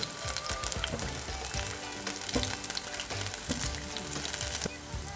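Onion ring pakoras frying in hot oil give a steady, dense crackling sizzle with small pops throughout, close and continuous, with no talking.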